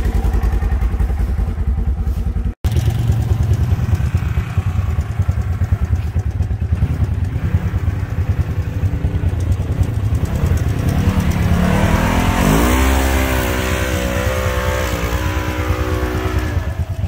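A trike engine runs loud and close while riding, a steady rough rumble with gear changes and rising revs near the end, with wind buffeting throughout.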